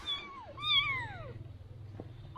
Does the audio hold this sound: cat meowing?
yes